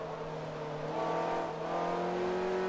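A Ferrari F430 in Forza Motorsport 3 holds a steady, close engine drone that swells slightly in pitch and volume, with no one talking.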